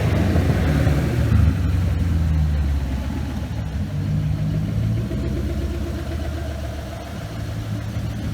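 A 2005 Ford Mustang with a Coyote engine swap and boost, making about 1300 horsepower at the rear wheels, runs close by. It gives a loud, deep, lumpy idle with a slight surge of revs, and no one speaks over it.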